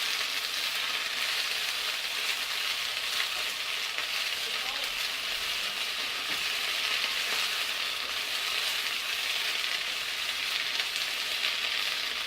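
Yam shoots frying in a pan give a steady, dense sizzle that holds constant throughout, close and loud, with no talk over it.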